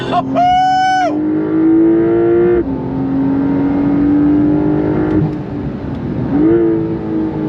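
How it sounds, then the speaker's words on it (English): A Porsche 911 GTS engine revs hard and climbs in pitch in first gear, loud and close, with a brief gear change partway through. "First gear, on throttle."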